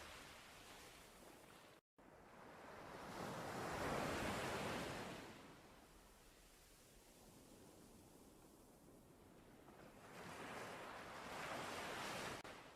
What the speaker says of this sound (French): La mer éclabousse même les grands rochers,